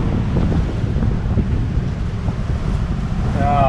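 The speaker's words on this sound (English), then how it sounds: "About the 5th set of gusts that hit us since I thought we were inside." Strong wind buffets the microphone in continuous roaring gusts on a boat at sea near São Nicolau, over a low rumble of sea and surf.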